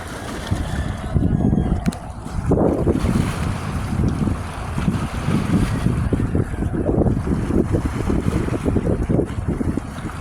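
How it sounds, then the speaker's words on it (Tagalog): Strong wind buffets the microphone by the sea at dawn, gusting unevenly over a wash of waves, loud and continuous with no talk. "Hangin."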